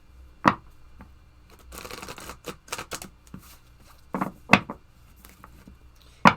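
A Moonology oracle card deck is handled and shuffled close by, with a soft riffling patter broken by several sharp taps and slaps of the cards, quiet and uneven.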